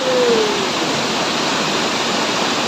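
Kurushnar waterfall pours from above in a steady, loud, broadband roar of falling water heard from close below, with no other sounds breaking through.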